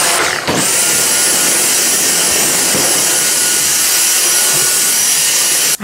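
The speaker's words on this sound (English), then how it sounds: "I'm going to do a little vacuuming." A household vacuum cleaner running on a hair-strewn floor, a loud, steady whooshing roar close by that holds from start to finish after a brief bump at the outset.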